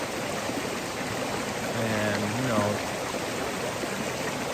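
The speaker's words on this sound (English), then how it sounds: "listen to the water" Water flowing at Cooper Canyon Falls, a steady broadband rush of stream and falling water with no breaks, while a voice speaks briefly partway through.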